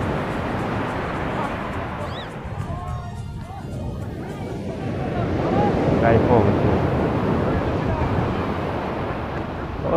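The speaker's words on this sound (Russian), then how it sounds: "Вот такой здесь пляж сегодня." Waves break and surge on a beach in Alanya, Turkey, under gusting wind that buffets the microphone, a steady rushing wash that swells louder midway, with a voice speaking over it.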